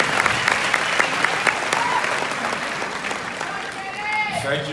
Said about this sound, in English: Please give her a big round of applause as she joins me